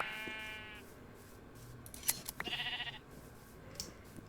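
Minecraft sheep bleating in a short wavering cry at the start, followed by quiet game sound effects and small clicks, soft and sparse with a faint low background hum.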